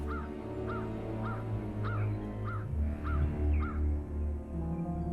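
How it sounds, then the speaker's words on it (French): A crow caws in a steady series of about eight calls over a low droning background, from a French LEGO stop-motion elf adventure, with no speech. "Un corbeau!"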